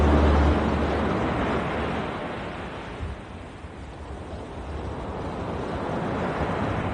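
Steady rushing wind and wash of waves at sea around a boat, a continuous broad roar that dips briefly in the middle before building again.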